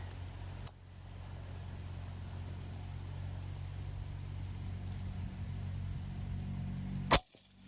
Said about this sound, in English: you're definitely hearing the sound suppression difference in this video here with the shroud